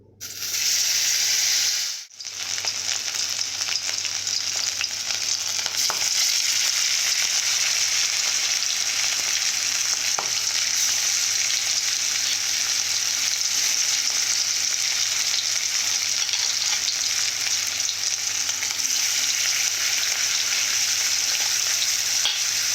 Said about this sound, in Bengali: তেলটা ভালো করে আমি গরম করে নিয়েছি এরপর আমি মাছগুলো এক এক করে আমি ভেজে নেবো